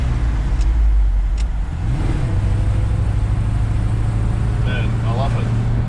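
A Ford F350 truck with a 302 Cleveland V8 drives along a road, its steady low engine rumble rising briefly as it revs, with someone talking over it.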